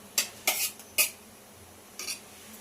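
Tomatoes go into a cooking pan with spoon clatter against metal: a few short scrapes and clinks spaced apart, close and moderately loud, with quiet gaps between them and no talking.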